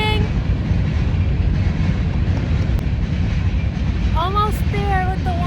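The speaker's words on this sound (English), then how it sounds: "Sorry, we have trains." A train rumbles past continuously, a loud steady roar with a few high horn-like tones near the end.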